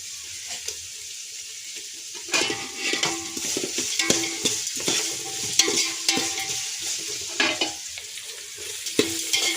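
Green chillies and onion fry in a pan while being stirred, giving a sputtering sizzle with irregular scraping and clattering spoon strokes, quieter at first and then busier and louder.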